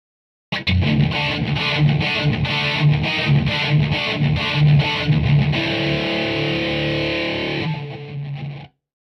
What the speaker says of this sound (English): or even distorted for full-on rock.